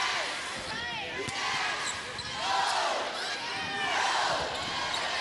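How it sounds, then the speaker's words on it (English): A loud crowd fills an indoor gym during a volleyball state final, cheering and shouting in rising and falling waves. Scattered sharp impacts and squeaks sit beneath the roar. "The crowd is getting really loud behind us."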